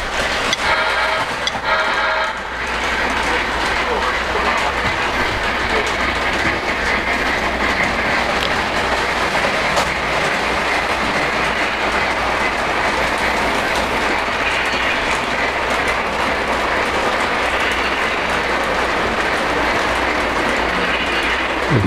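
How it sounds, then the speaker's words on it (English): A Polar Express model passenger train running on a layout track, with a steady, loud mechanical whirring and a fine clicking rattle of wheels and gears that carries on unbroken for over twenty seconds. "And here we go with the Polar Express passenger train."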